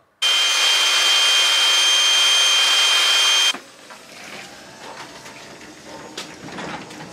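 A power sander runs loudly for about three seconds with a steady high whine, then cuts off, leaving quieter scraping and clattering.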